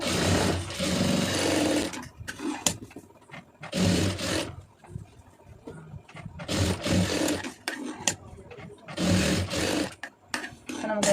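A sewing machine stitches a plain blouse sleeve joint in a tailoring setup, running in several loud bursts of a few seconds each with quiet pauses between them.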